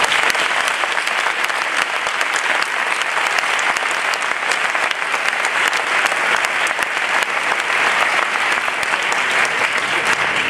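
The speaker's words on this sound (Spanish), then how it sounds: "Vamos a darles un fuerte aplauso." Loud, steady applause from a large audience at a conference closing session in Seville fills the whole stretch without pause.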